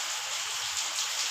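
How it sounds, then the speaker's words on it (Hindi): Steady rain falls outside a home, a dense even hiss of drops on surfaces with no voices, constant and close throughout. "और बारिश हो रही है हमारे यहाँ।"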